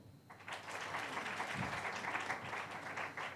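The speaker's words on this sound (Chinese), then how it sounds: "有嘅都不妨鼓起勇氣拍一拍手" Scattered clapping from an audience at a media talk, a light patter of hands that runs steadily for a few seconds.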